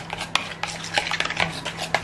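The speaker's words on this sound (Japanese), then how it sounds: "にんにくすりおろしをほんのちょいよーく混ぜていきます" Black pepper, condensed milk and grated garlic stirred together in a bowl for potato salad, giving close, irregular clinks and scrapes of a utensil against the dish with no talking.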